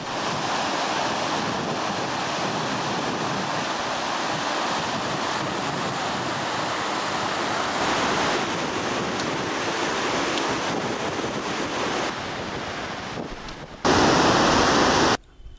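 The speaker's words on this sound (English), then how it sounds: "Suddenly, we noticed a wild river on our way." A wild mountain river rushes along a trail toward Gomukh, a steady, loud, broadband roar of churning water with wind buffeting the microphone, continuous throughout with a brief louder surge near the end.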